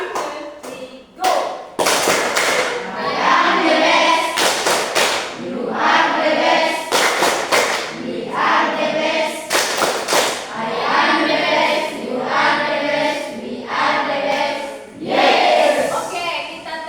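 A classroom of students performs a rhythmic group clap, with loud bursts of clapping in repeated patterns and voices joining in between the claps.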